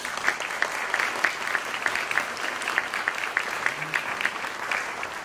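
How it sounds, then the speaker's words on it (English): An audience at a college savings accounts forum claps for a colleague, a steady round of moderate applause from a modest crowd indoors, continuous and evenly paced. "we're going to give Rachel a round of applause"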